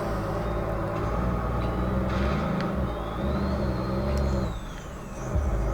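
A simulated heavy truck driven in BeamNG.drive with a control pad and clutch assist: a constant loud low engine drone with a faint whine sliding up and back down, steady until it dips briefly near the end.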